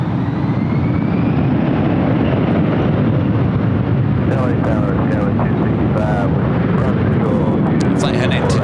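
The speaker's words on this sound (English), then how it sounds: "Flight heading to Detroit, now rolling down at 24 left. It's an A321 with Delta." A Delta Airbus A321 takes off on runway 24 left, a loud, sustained jet roar that builds and rumbles steadily, with radio-style voices and chatter partly audible over it.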